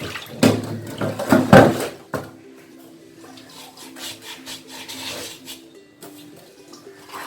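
Water-wet rubbing of a new stone grinder, a traditional Indian grinding stone, giving a cluster of loud gritty scrapes at first followed by lighter, steady rasping strokes close by.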